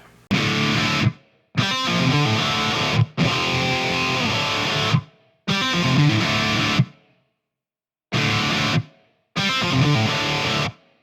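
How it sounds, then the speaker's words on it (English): Loud, heavily distorted prog rock guitar riff played in choppy bursts separated by abrupt silences. "A really cool sounding riff, a little reminiscent of prog rock"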